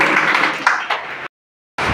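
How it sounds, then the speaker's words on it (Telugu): An audience at a BC community association hall event in Adilabad claps to welcome a visiting MLA, loud dense applause for over a second before cutting off abruptly, then resuming briefly. "ఈ కార్యక్రమానికి విచ్చేసినందుకు వారి అమూల్యమైన సమయాన్ని మనమందరం గట్టిగా చప్పట్లతోటి"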